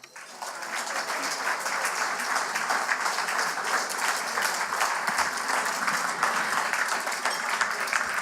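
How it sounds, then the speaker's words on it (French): An audience at a centenary gathering of L'Action nationale claps continuously and densely throughout, a steady wash of many hands at an even level. "je veux que vous applaudissiez Christian Gagnon."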